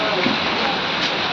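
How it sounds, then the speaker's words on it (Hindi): Steady rain falls outdoors in a village on a cloudy afternoon, a dense, even hiss of drops on the ground and wet road, with no speech heard. "देखिए बारिश शुरू हो चुका है।"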